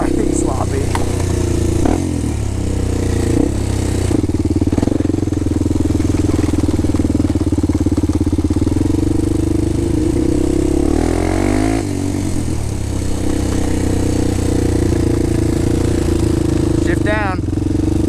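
A Honda 400EX ATV engine drones loudly and steadily while being ridden, its pitch rising and falling as gears shift, with the rider's voice heard faintly over the engine.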